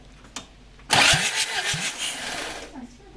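A car engine is cranked over by its starter in a garage, turning over rhythmically before catching and running loudly near the microphone, with a brief click beforehand and a voice speaking over it.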